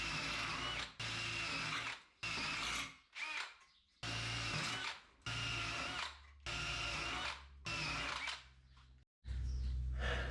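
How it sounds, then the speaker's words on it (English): A power drill whirs in repeated bursts, each lasting about a second, with brief pauses between runs and no talking, making tack plates for a 1951 Chevy headliner. "just get in there with the drill"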